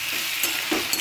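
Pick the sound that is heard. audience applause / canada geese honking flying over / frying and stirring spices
frying and stirring spices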